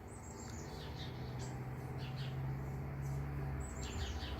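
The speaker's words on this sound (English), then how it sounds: "Are you enjoying the birds?" Birds sing outdoors in a steady chorus of high chirps and warbling calls, with a low hum running underneath and no talking.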